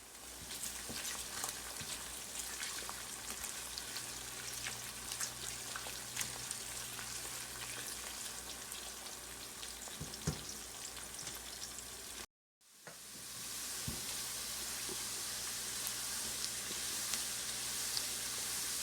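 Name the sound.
onion sautéing in oil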